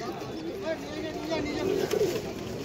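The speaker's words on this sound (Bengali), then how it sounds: "খুব সুন্দর কোয়ালিটি পায়রা" High-flying giribaz pigeons at a street market coo softly in a low, rolling murmur that swells slightly near the end, under steady crowd hubbub.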